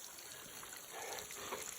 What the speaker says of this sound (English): Water dripping off this here.